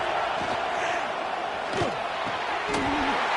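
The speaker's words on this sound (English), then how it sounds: "This crowd unhinged, trying to make sure the Gators don't back down on third down." A packed stadium crowd roars steadily at a Florida home game against Tennessee in College Football 26, a broad, sustained wall of noise with a few sharper thuds and yells rising out of it.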